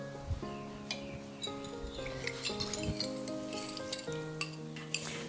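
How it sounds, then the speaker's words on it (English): A chilli and turmeric paste fries in a pan on low heat, a soft sizzle with a spoon stirring and scraping against the metal. Faint hum and clinks sit underneath. "It's been 2 minutes now since this chilli and turmeric paste has been frying"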